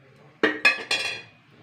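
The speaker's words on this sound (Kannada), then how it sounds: "ಇವಾಗ ಕುಕ್ಕರ್ ಮುಚ್ಚಿಬಿಡೋಣ." A pressure cooker lid being closed over a pot of village-style toor dal sambar: three sharp metallic clanks in quick succession, close and loud, with no talking.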